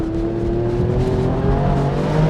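The engine of a 2025 Alfa Romeo Stelvio Quadrifoglio pulls hard through an upshift from inside the cabin, its steady, sustained tone climbing smoothly in pitch for a couple of seconds with no talk.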